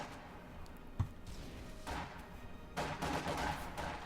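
Gunfire in a Company of Heroes 2 battle: a sharp thump near one second, then dense, broadband bursts of shooting swelling in around two and three seconds, mid-distance and moderately loud with no talk over it.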